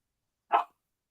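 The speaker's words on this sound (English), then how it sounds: "Vicious guard dogs." A single short bark from a guard dog, one brief burst standing alone against silence.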